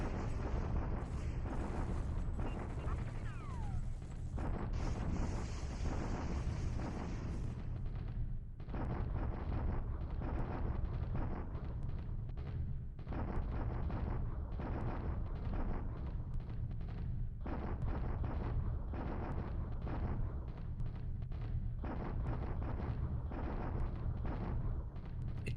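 Artillery bombardment in War in the Pacific, dense rolling booms and gunfire bursts repeating in rapid succession, a continuous rumbling barrage heard at a distance.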